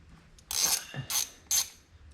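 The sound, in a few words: unscrewing the top of a car carburetor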